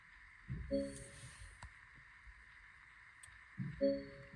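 A Porsche fitted with an aftermarket remote start tries to crank twice, each attempt a short low mechanical grind with a tonal whine, faint and recorded from close by, separated by a few seconds of quiet hum.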